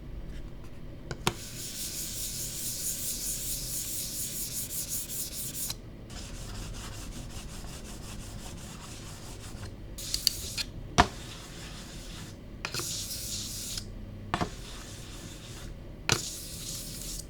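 A computer mouse slides back and forth across a glass Cerapad mouse pad in a rough, continuous scraping hiss, broken by short pauses and a few sharp taps, close and alone.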